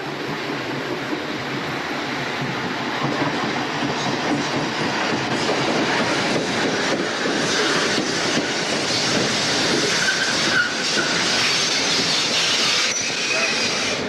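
An Erie Lackawanna eastbound MU electric commuter train rolls past at Burnsville, a steady close rumble of wheels and cars with rhythmic clickety-clack and brief squeals, filling the whole stretch without a break.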